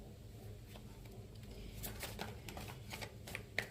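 A single card is drawn from a deck, with soft paper slides and light flicks rising toward the end, faint and close, with no talking.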